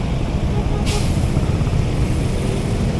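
A dump truck passes close on a busy city avenue, its heavy engine rumbling steadily and a short sharp hiss of air brakes bursting out near the start, all over constant dense traffic noise.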